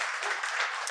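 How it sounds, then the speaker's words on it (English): Steady crowd applause, a dense wash of clapping that stays even throughout the short moment, with no voices standing out. "let's give them a round of applause for doing this for us"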